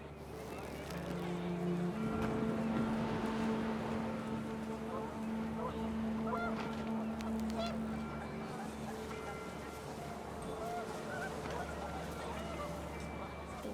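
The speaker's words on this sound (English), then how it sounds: "The wind picked up, and panicked geese appeared and quickly went." Panicked geese from the video game What Remains of Edith Finch honk repeatedly over a steady windy background, loud and close, with other low rumbling game sounds underneath.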